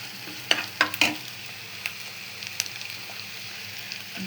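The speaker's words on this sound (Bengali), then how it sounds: "তেজপাতা, এলাচ, পেঁয়াজ তেলের উপর দিয়ে এই যে ভেজে নিচ্ছি বেশ কিছুক্ষণ।" Bay leaf, cardamom, onion and ginger-garlic paste fry in hot oil, a steady soft sizzle broken by a few sharp clicks of a spoon against the pan early on.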